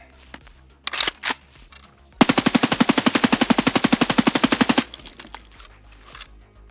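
Customised gun in Escape from Tarkov fires a couple of single shots, then a long fast-rhythm automatic burst of about thirty evenly spaced cracks, loud and close, before tapering into quieter clatter.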